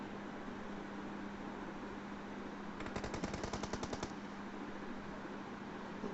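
A short burst of rapid automatic gunfire from the video game PUBG Mobile, about a dozen evenly spaced shots over steady background hiss.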